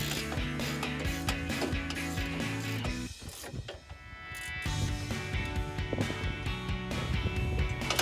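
A ratchet wrench on a long extension turns a bolt on a Mishimoto performance transmission cooler for a 1999-2013 Chevrolet Silverado 1500, clicking in a loud, steady, close rapid ratcheting that briefly pauses midway, then resumes.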